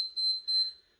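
Workout timer alarm going off: two short, high electronic beeps in quick succession, clear and close, then fading to silence.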